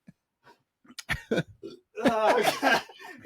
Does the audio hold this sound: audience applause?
no